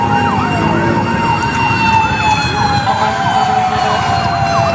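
A fire truck siren wails continuously and loudly nearby on a street in Intramuros, Manila, its rising and falling tones layered over a rumbling engine.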